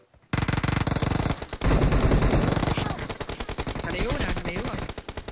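Rapid automatic gunfire in PUBG Mobile, with dense bursts of shots and heavy booming impacts rattling almost continuously and loudly throughout, including fire coming from a neighboring house.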